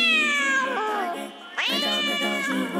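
A long-haired pet cat gives two drawn-out, loud meows close by, the second rising sharply after a short pause, with no talk.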